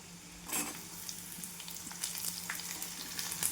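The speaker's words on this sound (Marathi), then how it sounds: "आणि कांदा आणि गाजर आपल्याला छान तेलामध्ये फ्राय करून घ्यायचं आहे." Onion and carrot fry in hot oil with a close, steady sizzle. Sharp crackles and soft stirring noises come through briefly, and no voices are heard.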